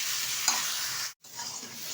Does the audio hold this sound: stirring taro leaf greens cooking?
yes